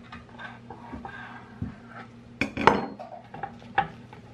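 Knife and fork scraping and clinking on a plate while a cheese-stuffed hamburger is cut open, soft scattered clicks with one sharper burst of scraping, close and quiet, no talking.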